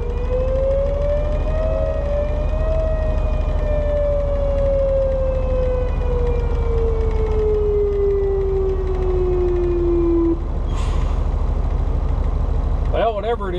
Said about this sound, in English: see if they get the siren shut off here.